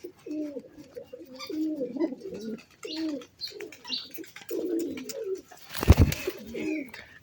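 Fancy pet pigeons at a home loft coo in repeated low, throaty phrases, several birds calling close by, with a brief sharp rustle or wing clatter partway through and no speech.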